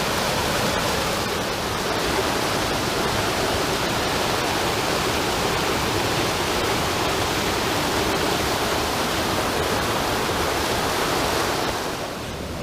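Water pours over an old concrete weir at Britannia Creek Falls, a dense steady rushing roar that fills the whole clip and eases slightly at the end.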